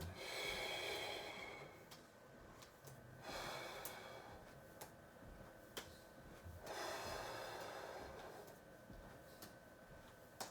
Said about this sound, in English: Still breathing.